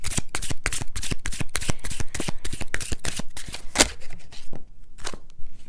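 Tarot cards shuffled by hand in quick, crisp riffling bursts that run back to back, loud and close, with no talk over them.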